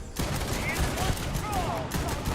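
Heavy gunfire from a hard-recoiling weapon in the video game Starfield, a dense continuous burst of shots lasting a couple of seconds with a voice talking faintly underneath.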